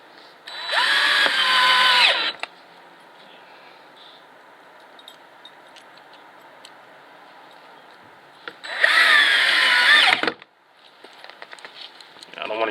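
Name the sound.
drill driving screws into Keter raised garden bed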